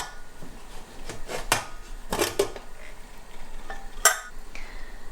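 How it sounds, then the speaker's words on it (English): A pressure cooker pot opened in a home kitchen during vegan pav bhaji prep, heard as a few metallic clanks and clinks of the lid and pot, fairly close, among lighter kitchen rattles with no talk. "go ahead and open the pot."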